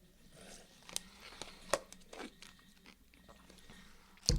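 Someone bites and chews partly melted ice cream with icy crystals on top, giving soft, close crunches and a few sharper crackles spread unevenly over a few seconds, with a louder crunch at the end.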